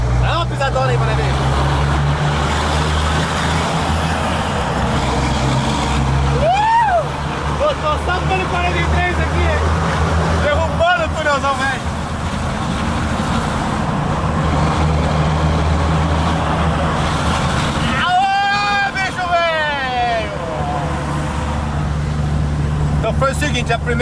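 A Volvo FH truck engine of 600 hp roars steadily under hard acceleration uphill with constant wind-like rumble, with brief voices breaking in near the middle and toward the end.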